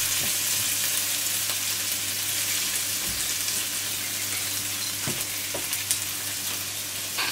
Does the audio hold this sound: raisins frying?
yes